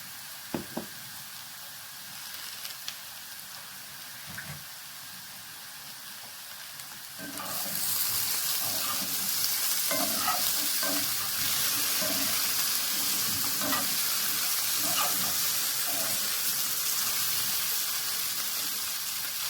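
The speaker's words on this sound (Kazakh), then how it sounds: "Мінеки картошкамыз қуырылып жатыр." Quiet scraping and stirring, then a loud steady sizzle as potatoes seasoned with black and red pepper fry in a pan, with spatula knocks and scrapes over the hiss.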